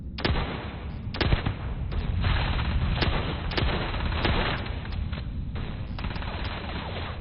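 A powerful gun blasting away in the space game Starfield, loud sharp reports landing in an irregular string of shots over a steady roar of combat, with no one speaking.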